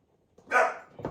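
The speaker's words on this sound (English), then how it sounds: "there's the first dog bark." A dog gives a single sharp bark, fairly close and clear against a quiet background, followed by a short softer yip.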